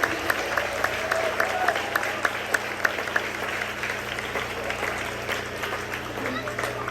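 Sustained applause from a church congregation at a 10th anniversary Sunday service in Lobo, Batangas, a few sharp nearby claps standing out early over the broad, even crowd clapping, with a voice speaking over it.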